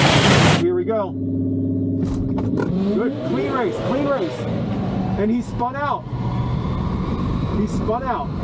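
Drag race car launching off the line at a quarter-mile dragstrip, a Toyota Corolla with a 350 engine swap, engine roaring loudly and rising in pitch with a broadband burst at the start, while people talk and shout excitedly over it throughout.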